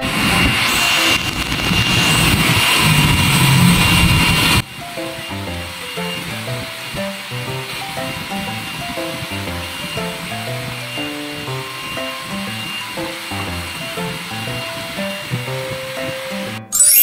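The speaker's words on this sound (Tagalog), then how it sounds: "hair blower ulit natin yung ating buhok nang mas makikita na talaga natin yung kulay" A loud, steady whoosh of a hair dryer blowing for several seconds, then it cuts off abruptly and music takes over.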